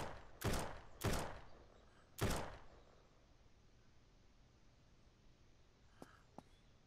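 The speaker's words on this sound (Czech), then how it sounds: "Slyším střelbu." Gunfire in the video game SurrounDead: three loud, sharp shots in quick uneven succession, followed by quiet ambient background and two faint clicks.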